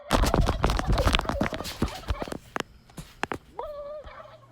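A rapid burst of turkey gobbling up close, followed by scratching and scattered clucks, ending in a single drawn-out call.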